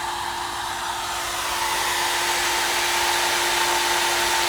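An air conditioner powered by an off-grid 12-volt LiFePO4 battery and inverter setup in a workshop runs with a loud, steady fan whoosh and a constant electrical hum, growing slightly as it spins up, with no talking.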